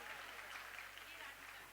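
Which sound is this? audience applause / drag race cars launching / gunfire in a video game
audience applause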